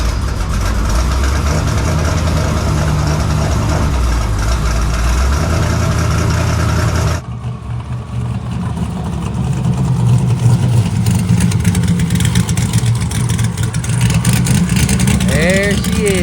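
No-prep 4x4 NASCAR truck engine roaring loud and close through a run, a heavy sustained drone that cuts off abruptly midway and gives way to a rougher, fluctuating engine rumble with talking over it.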